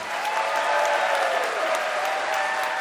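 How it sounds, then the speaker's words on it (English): A studio audience at a comedy debate show applauds to choose a debate winner: dense, steady clapping that runs loud and unbroken for the whole stretch, with no voices over it. "By applause, who thinks that Peter's pro-opinion oratory owned this debate?"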